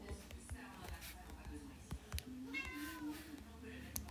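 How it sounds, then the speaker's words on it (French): A pet cat meows repeatedly indoors, several short plaintive calls rising and falling close to the microphone, with a person talking quietly in the background. "Si vous entendez des miaules de chat, c'est mon chat"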